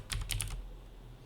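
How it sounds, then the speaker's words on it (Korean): Quick bursts of typing on a computer keyboard, a handful of close, soft key clicks in a short flurry before trailing off into quiet room tone. "타이핑을 쭉 하겠습니다."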